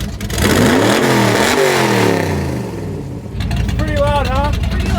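A loud 1956 Chevy gasser's engine revs hard, climbing and falling in pitch, then drops back to a rough idle before blipping again, close and dominant.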